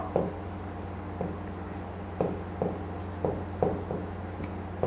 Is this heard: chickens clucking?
no